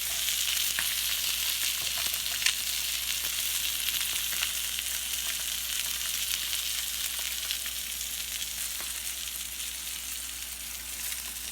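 Rockfish pan-searing in hot olive oil, a loud, even, close-up sizzle with scattered sharp spits and pops throughout, steady and unbroken, no talking.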